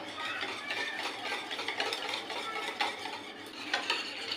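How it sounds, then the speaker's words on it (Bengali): Lachha semai pudding mixture being beaten by hand in a bowl, a steady close scraping and clinking of a utensil against the bowl that continues without a break. "অল্প পরিমাণ চিনি দিচ্ছি, তাই হাতে কষ্ট করে ফেটে কারেন্টটাকে সাশ্রয় করছি।"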